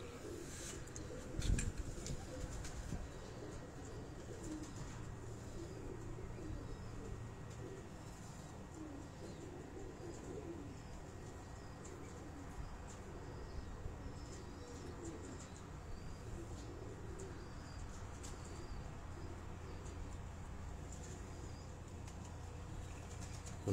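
Pigeons coo softly on a rooftop in Rawat, low throaty calls repeating under a continuous background hum, moderately distant, with a brief knock early on.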